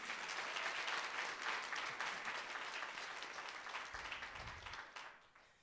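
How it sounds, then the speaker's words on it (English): Audience applause at a Founders' Day brunch in a banquet setting, a sustained wash of many hands clapping at moderate distance that slowly thins and fades over several seconds. "another round of applause?"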